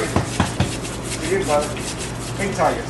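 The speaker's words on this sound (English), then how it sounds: "And I just give it a little scrub with the brush." Brush scrubbing a firearm part in warm Bio-Circle parts cleaner, a few quick rasping strokes at the start followed by softer rubbing, close up with faint low hum behind.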